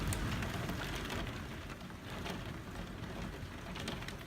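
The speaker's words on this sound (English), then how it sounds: "Like literally giant hailstones here in the window." Rain and hail during a strong-wind thunderstorm, a steady dense patter against a house window, fairly faint and even throughout with no voices.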